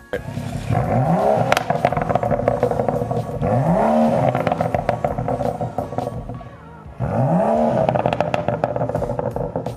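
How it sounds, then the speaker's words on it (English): A BMW M235i exhaust fitted with a Fabspeed muffler bypass gives a deep, loud note as the engine revs up three times, each rising pull followed by crackles and a brief lull. "this system has a really deep note"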